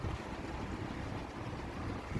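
A steady, continuous whoosh of an old restored box fan running nearby in a garage, broadband and even, with no other sounds over it.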